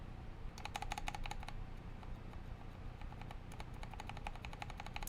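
Stabilized keys on a custom E6.5 mechanical keyboard with Ink switches being pressed in two quick bursts of sharp, close clacks over a low background hum, with no speech.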